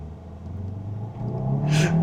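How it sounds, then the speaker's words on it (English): A 2027 Kia Seltos accelerates in sport mode, its engine note rising steadily in pitch and loudness over about two seconds as the car picks up speed, close to the microphone and with no talking over it. "Let's see how it accelerates in sport mode."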